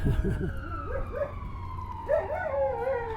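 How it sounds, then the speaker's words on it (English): A dog howls somewhere in a quiet neighbourhood near a bridge, its long wavering wolf-like cries rising and falling in several drawn-out phrases over a low background rumble. "I hear a dog howling."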